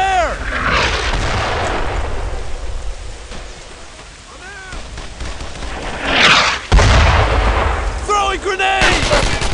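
A grenade explosion and rattling gunfire in the World War II shooter Brothers in Arms on Hill 30, France, 1944: a loud close blast near the middle, then continued bursts of shots, with shouted voices.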